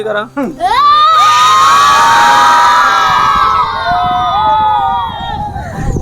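A crowd of fourth-grade schoolchildren at a Konkan Marathi school shouting together, loud and sustained, their high voices rising into one long yell before trailing off.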